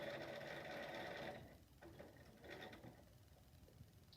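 A sewing machine stitches a fabric face mask, whirring rapidly and steadily at close range for about a second and a half before dropping to quieter, intermittent mechanical ticks and hum.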